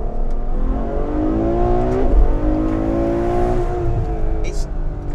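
A Ferrari F12 Berlinetta's naturally aspirated V12 revs hard, its pitch climbing through the gears in smooth rising sweeps with a brief dip at a shift, loud and close as the car is driven flat-out.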